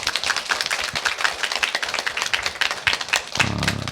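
Congregation clapping for a church elder during a choir dedication service, a steady scattered patter of many hands that continues throughout and stops short near the end as a low voice begins.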